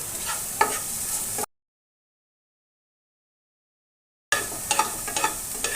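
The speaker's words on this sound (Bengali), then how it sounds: "এবার সবগুলো উপকরণ একসঙ্গে আবারও নেড়ে চেড়ে কিছুক্ষণ সময়ের জন্য ভেজে নেব" Cabbage with a dry chilli frying in ghee in a pan, stirred with a spatula, a close, steady sizzle with scraping clicks, broken by a stretch of total silence in the middle before resuming.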